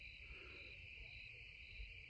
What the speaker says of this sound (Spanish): lo único que puedo escuchar es el ruido de los grillos